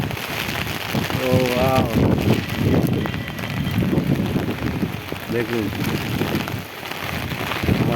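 Rain falls steadily over a city road with overbridges and slow-moving cars, a constant close hiss and patter under people talking and exclaiming.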